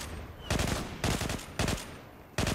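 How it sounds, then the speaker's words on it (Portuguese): AK rifle fire in the video game Zula, four short loud bursts spaced about half a second apart, close and punchy, with a quieter background hum between them. "Eu ainda não peguei muito bem o recoil da AK, velho."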